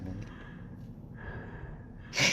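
Heavy, loud breathing of a monster in the Roblox horror game Bewildered, slow rasping breaths over a low rumble, ending in a sharper hissing exhale.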